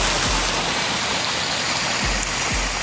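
Garden water feature recirculating water over river rocks at a cabin in a mountain RV resort, a steady, loud, close rush of flowing water like a small stream, continuous throughout with no voices.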